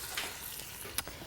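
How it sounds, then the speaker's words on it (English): Chopped onion hits a frying pan of browned beef, setting off a loud, crackling sizzle with a couple of sharp spatters and pops over the steady frying hiss. "our beef is browned, and I'm just going to add the onion"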